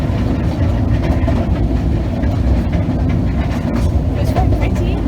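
A small narrow-gauge steam train in Wales heard from on board, a loud, steady low rumble with faint clattering of the carriages, and voices talking over it.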